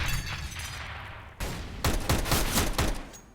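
Tech-9 pistol gunfire in a Counter-Strike esports match, a rapid string of loud sharp shots in quick succession over busy game ambience, the burst intensifying toward the end.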